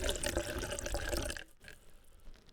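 Cognac is poured into a cup, a close, steady splashing trickle that stops abruptly partway through, leaving a few faint drips and quiet room noise.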